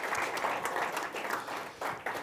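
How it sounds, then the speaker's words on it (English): Audience applause at an Ad Club event welcoming Carl Fremont, CEO of Quigley, a soft, fairly distant patter of many hands clapping continuously, with a few sharper claps near the end. "Big round of applause for Carl."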